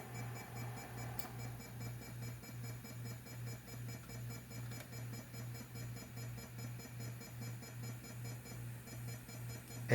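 A Rana 1000 floppy disk drive with a metal shell near its read/write head gives off a pulsing, rhythmic low hum that repeats evenly under faint electronic whine, a steady stuttering mechanical throb heard up close.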